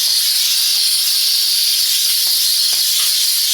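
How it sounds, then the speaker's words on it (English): A Silvercrest steam mop gives off a loud, steady hiss of steam, continuous and even throughout with no talking. "Sanitize and deep clean a variety of surfaces with a powerful steam output"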